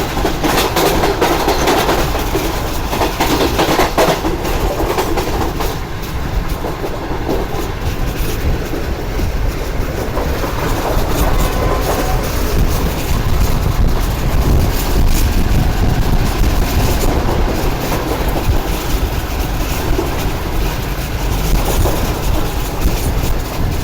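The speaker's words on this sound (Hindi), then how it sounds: "तकरीबन 105-106 की स्पीड है इस वक्त हमारी ट्रेन की।" The Pak Business Express passenger train runs at about 105 km/h, with a loud, steady roar of wheels on rail, clattering rhythm and heavy wind buffeting throughout, no voices.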